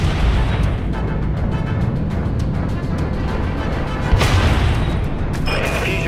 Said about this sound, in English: Auto guns fired up.